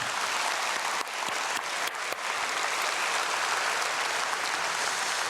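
A congregation at a dawn prayer service applauds the children filling the front of the sanctuary. Dense, sustained clapping carries evenly through the room, with a few sharper individual claps standing out early on.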